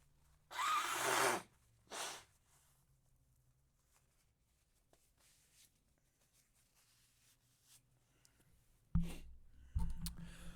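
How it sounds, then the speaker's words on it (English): A person blowing their nose: one loud, harsh blast lasting nearly a second, followed by a shorter puff, then quiet with faint clicks and a couple of sharp knocks at the end. "I'm going to blow my nose again."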